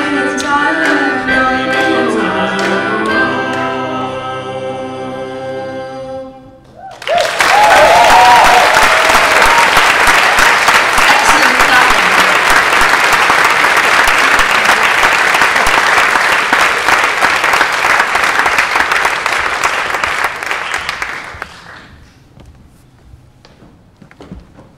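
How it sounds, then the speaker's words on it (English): An audience at a live folk concert breaks into loud, sustained applause right as the sung music ends, filling the room for about fifteen seconds before tapering off. "That was lovely clapping."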